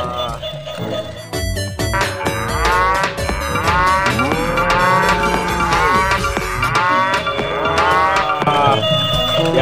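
A walking toy cow plays a loud, repeated electronic mooing over a jingly tune, continuous and close.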